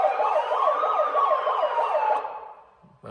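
Ahuja SUH-25M siren fitted to an SUV, sounding its police tone: a loud, steady electronic wail sweeping rapidly up and down in a fast repeating cycle for about two seconds, then cutting off abruptly.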